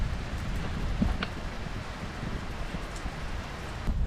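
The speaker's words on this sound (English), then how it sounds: "so it's been raining" Steady rain patters continuously during a storm in Florida, with a few brief louder drops or taps standing out.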